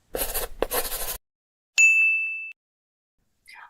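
A short burst of rustling noise, then a single bright, ringing notification ding that holds briefly and fades, followed by a faint soft chirp.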